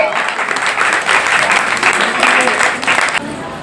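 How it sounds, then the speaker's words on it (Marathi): An audience claps loudly and continuously for a prize winner at a children's shloka recitation competition, dense applause filling the room throughout and easing slightly near the end. "जोरदार टाळ्या द्यायच्या"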